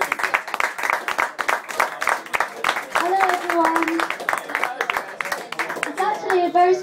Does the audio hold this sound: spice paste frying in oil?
no